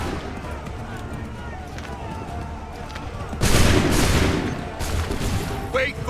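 Musket volley gunfire in the video game Assassin's Creed III: a dense, loud burst of massed shots erupts midway and rolls on for a couple of seconds, then a second ragged volley follows, all over background battle noise and shouted commands.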